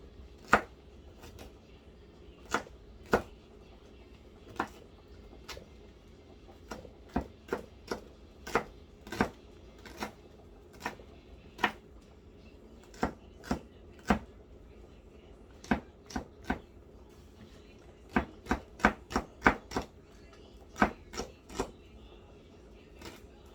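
Potatoes sliced with a kitchen knife on a cutting board for potato salad, a steady run of sharp, close knocks against the board that bunch into quicker bursts toward the end.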